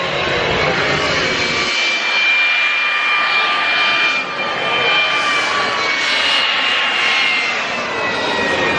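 A private jet's engines roar loudly and steadily up close, a constant broadband whine and rush with a high tonal hum that holds for the whole stretch with no talk over it.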